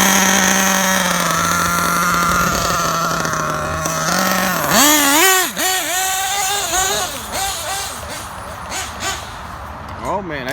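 A Losi 8ight RTR nitro truggy engine running with a sticking clutch shoe, a loud, close buzzing whine that holds steady, then revs up and down in wavering bursts while a voice talks over it.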